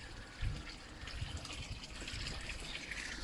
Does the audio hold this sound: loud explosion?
no